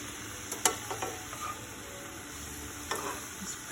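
Lasagne ingredients frying in a pan, with a couple of sharp scraping stirs standing out over a steady low sizzle; close and fairly quiet.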